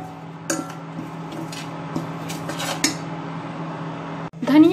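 Coriander powder being dry roasted in a pan, with a few metallic scrapes and clinks of a utensil against the pan, spaced apart over a quiet background, ending in a louder scrape.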